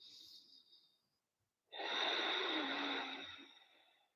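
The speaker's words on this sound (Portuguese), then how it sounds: "a gente inspira pelo nariz e solta" A person breathes in through the nose and then exhales, a short faint inhale followed by a pause and a long, loud, airy breath out that slowly fades, close up.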